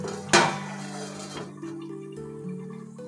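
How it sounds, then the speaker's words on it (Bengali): A metal lid clanks down onto a pot of chicken kosha with a single sharp impact, followed by a lighter clink and a low steady hum from the stove. "এবার আমি ঢাকনাটা দিয়ে দেবো 10 মিনিটের জন্য।"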